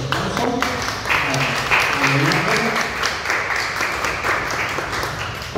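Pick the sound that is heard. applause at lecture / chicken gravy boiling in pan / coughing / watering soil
applause at lecture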